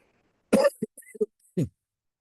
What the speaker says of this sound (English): Excuse me, I still have a little bit of a cough